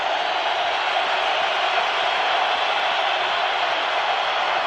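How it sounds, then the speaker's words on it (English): Stadium crowd at a Monday night NFL game, 49ers at Packers in 1996, a steady loud roar with no break, late in the fourth quarter before a play. "Crowd in full throat."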